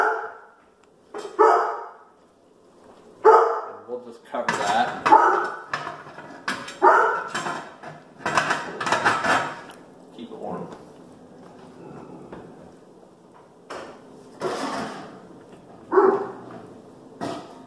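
Indoors during home pressure canning, a dog barks repeatedly at arriving visitors in uneven bursts, moderately loud and a little distant, while a person talks nearby.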